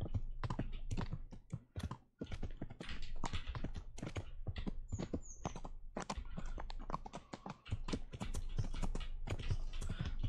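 Horse hooves clip-clop steadily along a road in Kingdom Come: Deliverance, a close, rhythmic run of hard taps with a few short pauses, heard alone without talk.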